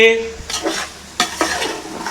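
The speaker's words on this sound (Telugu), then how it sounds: "నూనె, కారం, ఉప్పు కలిసిపోయేటట్టు ఇలా కలుపుకుందామండి." Bottle gourd curry pieces being stirred in oil with chili powder and salt in a pan on the stove, a series of close scraping stirs with soft sizzling and occasional metallic pan clinks, no talking.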